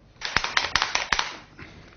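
A charcoal Jamie Oliver Flavour Shaker, about 16 by 7 cm, shaken with crushed basil, garlic, olive oil and balsamic vinegar, giving a close run of about eight quick rhythmic rattling knocks that fade at the end.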